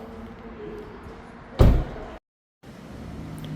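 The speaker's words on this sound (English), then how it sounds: "So now let's shut this door and we'll go to the other side next." A 2025 BMW X4 xDrive30i M Sport door is swung shut with a single solid thud, followed by a brief moment of silence, against a low steady background hum.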